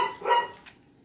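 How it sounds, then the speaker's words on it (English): A dog barks in the background of a quiet room, a couple of short muffled barks in the first half second with a faint trailing yip, no talking over them. "Excuse my dog in the background."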